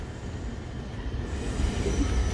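Amtrak Coast Starlight passenger train pulling into the San Luis Obispo station on track 1, a steady low rolling rumble of wheels on rails heard from on board, growing slightly heavier toward the end.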